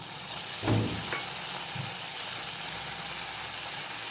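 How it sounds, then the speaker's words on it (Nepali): Chopped tomatoes drop into a pan of lightly browned onions, setting off a steady, close sizzle with a brief clattering burst as they land and a soft scrape of stirring, no voices. "अब यसमा गोलभेडा राख्दैछु।"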